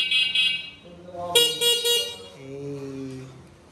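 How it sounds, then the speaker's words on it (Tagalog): A motorcycle fitted with mini driving lights and a horn sounds close by: a short high toot, then a loud blaring honk in mid-clip, followed by a lower, softer tone. "So ito yung horn natin."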